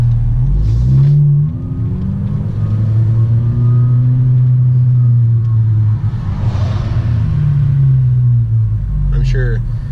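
A 2017 Honda Civic with a catless downpipe and muffler delete revs up and hangs on its revs, the loud exhaust drone holding high and steady before easing off, close to the car, with talk mixed in.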